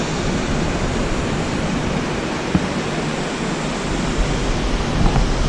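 A Swiss waterfall roars in a steady, dense rush of water that stays constant throughout, with no voices.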